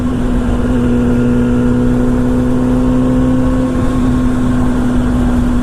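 Yamaha R1 AMA pro race motorcycle engine holding a steady, loud drone with a constant pitch throughout, close and continuous with no talk.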